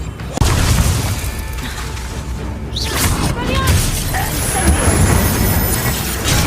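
An Incendio fire spell goes off in Hogwarts Legacy with a sudden blast and roaring, crackling bursts of magical fire. Game effects ring out in a dense, loud mix.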